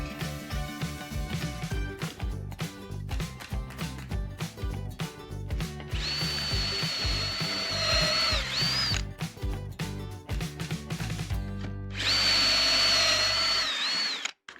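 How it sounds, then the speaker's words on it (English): A power drill boring pocket holes in wood with a Kreg jig, heard as repeated short whirring bursts and clicks, then two longer high-pitched drilling runs that whine steadily before stopping. "So I'm going to carry on with my Craig jig over here and make pocket holes facing down"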